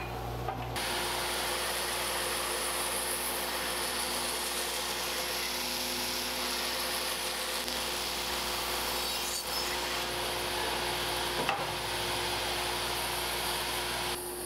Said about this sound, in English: we're going to mill this up and resaw it on the bandsaw